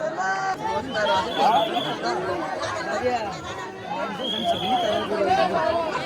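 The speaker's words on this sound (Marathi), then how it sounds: "गाईज गर्दी बघा, फक्त गर्दी बघा, पूर्ण गर्दी आहे." A dense crowd of pilgrims at Ekvira temple fills the air with overlapping chatter and shouts, close and loud babble throughout with no single clear voice.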